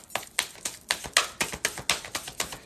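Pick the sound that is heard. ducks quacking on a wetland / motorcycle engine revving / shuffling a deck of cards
shuffling a deck of cards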